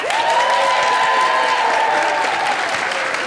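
Audience applause from a farmers market game-show crowd, a dense, steady burst of clapping lasting several seconds, loud and close, with a sustained tone sounding over it.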